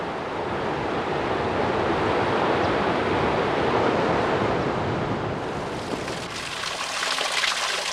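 River water rushes steadily against the stone pillar of a 600-year-old Inca bridge in the Andes, a dense, continuous wash with no breaks that thins slightly toward the end.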